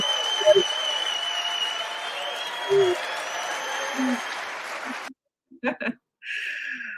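Applause mixed with cheering from a crowd runs steadily for about five seconds, then cuts off and a voice speaks briefly.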